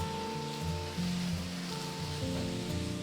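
Meat and onions sizzle in a hot pan while being stirred for san choy bow, a steady close hiss of frying with faint scraping as the food moves, and no voices.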